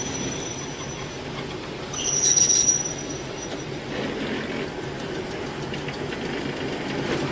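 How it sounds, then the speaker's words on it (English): Wheels of a Network SouthEast DC electric unit squeal steadily along the rails under a low rumble as it slows approaching a stationary train for coupling, with a sharper, louder squeal briefly standing out before settling back into a continuous grind. "As the unit nears the stationary train, the shunter gives the driver the slow down hand signal."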